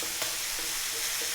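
Garlic fries in a pan until light brown, giving a brief steady sizzle with faint soft clicks from the pan.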